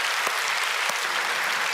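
Clapping from a church congregation during a Friday overnight service, a full, steady wash of applause from many hands, loud and even from start to finish with no voices over it.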